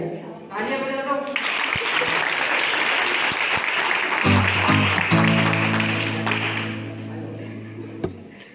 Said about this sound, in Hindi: आइए आइए, तालियां बजा दो।